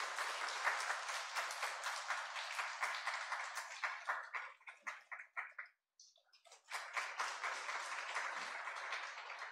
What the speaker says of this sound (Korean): 우리 박수로 한번 뜨겁게 환영해 주시기 바랍니다.